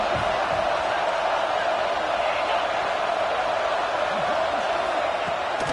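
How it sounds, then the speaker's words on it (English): Home crowd in a College Football 26 video game, Michigan State vs Iowa, roars steadily at a third-down stop attempt, a dense, constant stadium din that fills the whole stretch. "Here comes this home crowd as the defense tries to get off the field on 3rd down."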